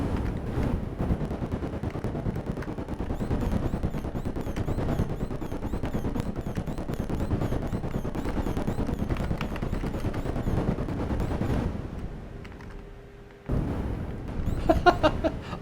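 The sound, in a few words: tank gunfire and explosions in arcade video game Armor Attack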